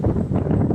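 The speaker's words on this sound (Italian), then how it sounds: "Come da previsioni è arrivato il vento, sentiero esposto." Strong wind gusting across an exposed trail on the rugged Selvaggio Blu trek in Sardinia, a steady low roaring buffet against the microphone with no voices.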